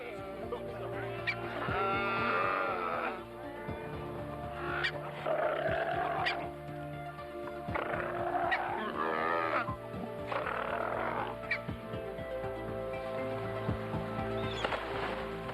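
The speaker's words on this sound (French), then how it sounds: "Notre navire vient perturber la relative tranquillité du lion de mer et de son harem." A male sea lion with his harem of females on the shore bellows again and again as a ship approaches. The loud, harmonic roaring calls come in bursts across the whole stretch, close and dominant.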